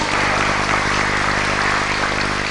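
An audience at a humanitarian charity concert applauds in a continuous, even roar of clapping that stays loud and unbroken from start to finish, with no speech over it.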